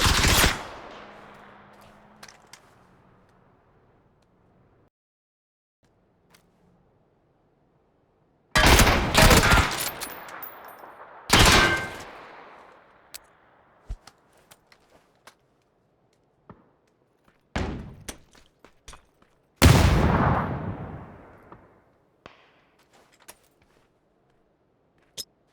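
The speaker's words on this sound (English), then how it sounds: "He's shooting at me." Gunfire from an enemy player in PUBG urban combat: loud, sharp bursts of shots arriving in separate clusters with silent gaps between them, plus scattered single cracks, close and unaccompanied by talk.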